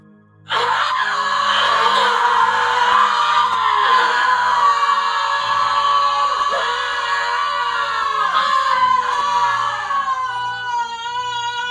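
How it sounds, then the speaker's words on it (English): Crowd of many people screaming and wailing together in an audio drama, a loud sustained chorus of panicked voices with a low rhythmic pulse underneath, lasting about eleven seconds. "Why is everyone screaming?"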